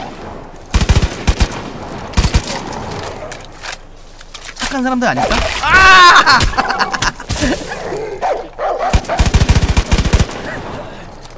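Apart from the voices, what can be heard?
machine gun fire in the video game Far Cry 5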